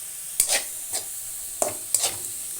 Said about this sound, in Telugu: ఉల్లిపాయలు పచ్చి వాసన పోయే వరకు కూడా మనం సిమ్లో పెట్టి వేపుతూ ఉండాలి.